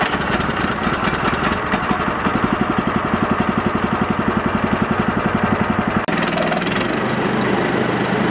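Chainsaw mill powering through a log for an 18-foot beam, a loud steady two-stroke roar with rapid pulsing chatter as the chain bites, dropping abruptly to a lower idle near the end.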